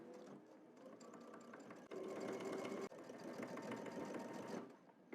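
A sewing machine runs at a steady fast whir while stitching a pocket bag from the slash corner with backstitching, close and continuous, pausing for a split second midway before resuming.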